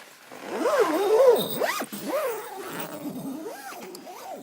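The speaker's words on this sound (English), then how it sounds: "You can zip it up completely" A zipper drawn along the mesh door of a Robens Kiowa tent, a close rasping zip in several rising and falling strokes of varying speed, with no talking.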